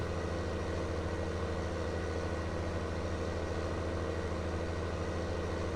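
A small Ford tractor engine in Farming Simulator 19 works hard pulling a mower, a steady, dense mid-to-low drone that holds at the same level throughout with no voices.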